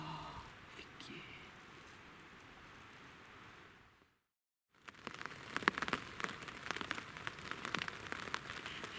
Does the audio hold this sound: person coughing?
no